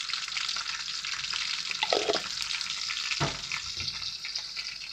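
Onions, chopped lamb and pieces of fat sauté in a hot pan with a steady, close crackling sizzle, broken by a couple of scraping stirs.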